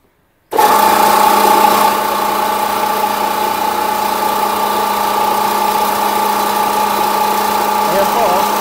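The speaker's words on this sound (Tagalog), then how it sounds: "Testingin po natin itong pelletizer machine." Pelletizer machine starting up for a test run, a sudden loud mechanical roar that settles into a steady, droning hum with a constant whine, close and continuous to the end.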